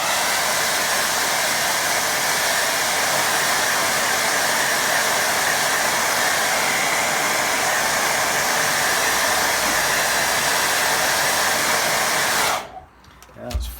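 A hair dryer blows loud and steady over a wet watercolour painting, a continuous close roar that cuts off abruptly near the end, followed by a brief quiet rustle.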